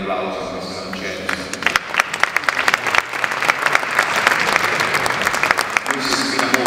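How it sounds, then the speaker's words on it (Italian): Audience applause fills the room, a steady wash of dense clapping building in intensity with sharp individual claps standing out, alongside some voices. "voglio dire un applauso a questa ancella"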